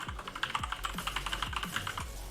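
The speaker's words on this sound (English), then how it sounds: "Loud keyboard noises though." Loud computer keyboard typing, a steady run of sharp, close clicks with an even rhythm and no voices over it.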